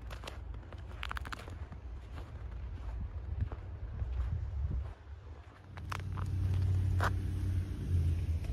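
Cars pass along a snow-covered road on a winter morning in England, a steady low rumble of traffic with wind noise that swells louder toward the end.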